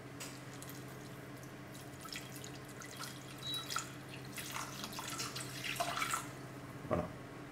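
Water being poured into a cooking pot over pieces of pumpkin, faint splashing and trickling that comes in small bursts with a few drips near the end, quiet and with no voices.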